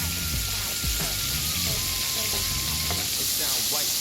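About two tablespoons of butter melting in a hot pan for garlic butter spaghetti, a dense, continuous crackling sizzle with scattered pops, close and steady throughout.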